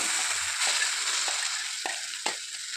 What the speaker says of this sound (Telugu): ఇప్పుడు మనం పచ్చడిని ఈ తాలింపులో వేసుకోవాలి.